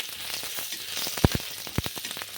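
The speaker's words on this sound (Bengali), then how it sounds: "ওই তেলেই আমি 1 টিস্পুন আদা কুচি দিচ্ছি, 2 টিস্পুন রসুন কুচি দিচ্ছি। এগুলো একটু ভেজে নিচ্ছি।" Chopped ginger and garlic fry in a pan of oil, giving a steady soft sizzle broken by a few sharp clicks of a utensil against the pan.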